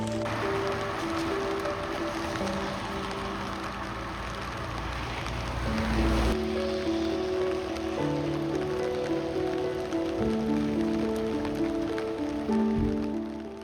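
Heavy rain pours down during a road trip near Obi Castle in Miyazaki, Kyushu, Japan, a dense continuous hiss that holds steady throughout, with low droning tones underneath and no talking.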